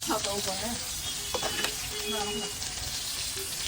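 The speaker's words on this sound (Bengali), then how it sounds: "এখন ভাজি করতেছি দাম দেখানোর জন্য।" Loitta (Bombay duck) fish fries in hot oil, giving a dense, continuous close sizzle that holds loud and even throughout, with a faint voice under it.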